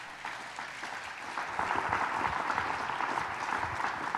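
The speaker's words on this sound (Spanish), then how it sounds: "Denle un aplauso al Señor." Congregation applauding during a church service, starting modestly and swelling into fuller, steady clapping after a second or so.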